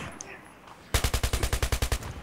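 An M416 assault rifle fires in Battlefield 3 squad deathmatch: after a near-silent second, a loud, close burst of about twelve rapid, evenly spaced automatic shots rings out, with no talking over it.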